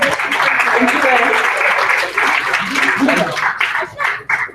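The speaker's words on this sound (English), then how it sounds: "give them an applause because they're doing a great job" Applause from a conference audience in Chicago, a dense continuous wash of clapping that fills the room, then thins into scattered claps near the end.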